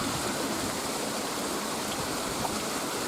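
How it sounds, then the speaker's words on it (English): Steady rushing of a stream flowing in the Dorset countryside, a continuous close wash of moving water with no pauses and no voices. "you can hear the sound of the water."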